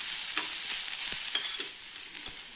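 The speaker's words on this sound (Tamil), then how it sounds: "நெய் போட்டு இந்த தேங்காவை இதில் போட்டு வறுத்துக்கலாங்க" Grated coconut roasting in ghee in a pan for rava laddu, a steady bright sizzle with soft scraping stirs at intervals, close and continuous, no voices.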